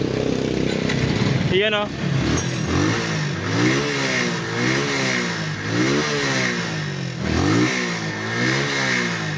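A motorcycle engine, just repaired after a spark plug fault, idles and revs repeatedly, rising and falling in pitch, with a brief voice speaking early on.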